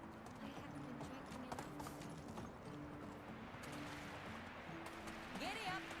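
Horse hooves clip-clop at a steady galloping rhythm in the medieval game Medieval Dynasty, running continuously at moderate level beneath a voice and in-game ambience.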